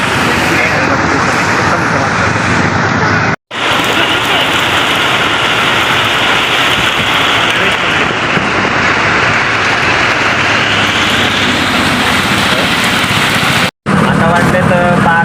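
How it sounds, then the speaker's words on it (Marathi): Heavy monsoon rain pours steadily and loudly outdoors during a Pandharpur Wari pilgrimage, a dense continuous roar broken by two brief cuts, with faint road traffic mixed in. "शेवटी पावसाने हजेरी लावली. आता काय पाऊस थांबत नाही."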